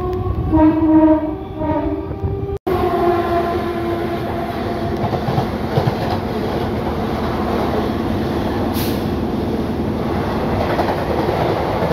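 A local train runs from Howrah toward Tarapith; a horn sounds at the start, then a steady rumbling clatter of the moving carriages continues loud and close.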